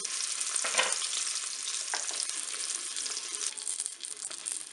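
Soy-based vegetarian meatballs sizzle and brown in a Cookeo electric pot, a steady close frying hiss with occasional stirring scrapes and no talk.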